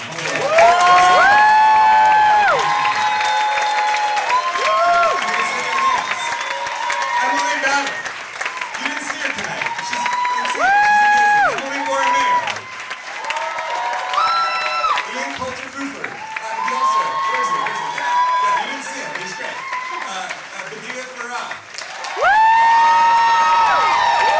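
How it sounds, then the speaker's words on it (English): A theater audience applauding and cheering at the close of a Broadway Bounty Hunter show, with loud, sustained clapping mixed with whoops and shouts running through the whole stretch. "please give the hugest round of applause"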